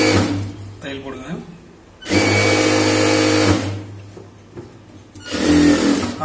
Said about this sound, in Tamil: அதை கனெக்ட் பண்ணி தையல் போடுங்க.